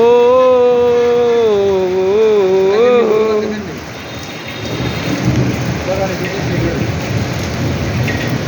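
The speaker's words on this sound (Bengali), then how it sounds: "শুধু বৃষ্টিটা উপভোগ করুন সবাই" Heavy rain pouring onto a flat rooftop, a dense continuous roar of drops, with a sustained melodic voice over it for the first few seconds before the rain carries on alone.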